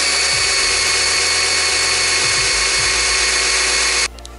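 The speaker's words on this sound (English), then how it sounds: "Now I'm going to take a drill bit and just drill a hole right here" A power drill bores a small hole into a car's metal body for a subwoofer ground-wire screw, a steady close whine running continuously for about four seconds before cutting off abruptly.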